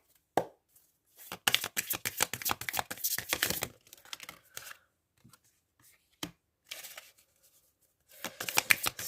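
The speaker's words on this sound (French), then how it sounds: "je laisse sauter les cartes et après je vous les interprète" Oracle cards are shuffled by hand in a series of quick, riffling flutters and soft slaps, coming in bursts with short pauses between them, close and fairly quiet.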